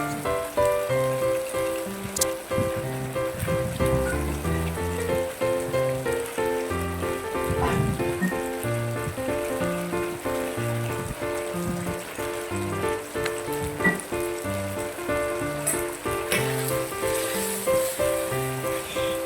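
Chinese kale and canned fish stir-frying in a pan, a steady sizzle with scattered clinks of a spatula, under background music.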